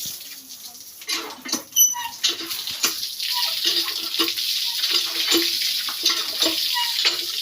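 Water runs steadily from a tap while greens are rinsed, a continuous close splashing patter with small irregular drips and handling knocks, no talking.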